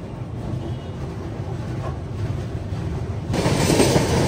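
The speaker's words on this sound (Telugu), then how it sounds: "గాండియా జంక్షన్ నుంచి మన ట్రైన్ అయితే బయలుదేరిపోతుంది" Howrah Mail train pulling away from Gondia Junction, a steady rolling rumble of wheels and carriages heard from on board, growing louder and fuller toward the end.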